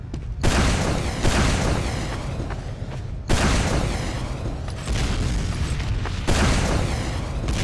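Rocket blasts in Team Fortress 2 gameplay: four heavy, booming explosions roughly every one and a half seconds, each a loud broadband burst with a rumbling tail that runs into the next, no talking.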